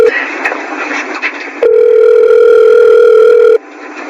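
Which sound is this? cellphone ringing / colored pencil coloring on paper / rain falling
cellphone ringing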